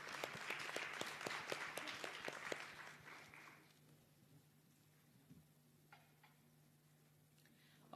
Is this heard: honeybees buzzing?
no